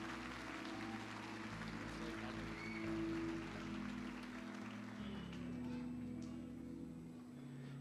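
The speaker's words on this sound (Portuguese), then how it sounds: "Você pode dar uma salva de palmas pelo Lucas?" Congregation claps for Lucas at a church baptism service held during a Christmas musical, a steady wash of applause lasting throughout, fairly soft and mixed with low sustained tones.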